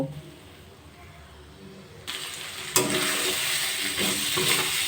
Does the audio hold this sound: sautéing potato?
yes